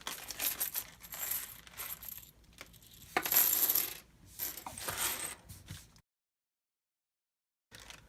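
Thick plastic value coins from the Camel Up board game clatter and drop onto a surface in a run of close, clinking impacts with small rattles, pausing into silence near the end before one last brief clatter.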